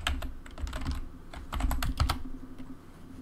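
Typing a password on a computer keyboard while setting up a PowerMac G5: a close, quick run of key clicks, some in tight bursts, over a faint low hum, with no talking.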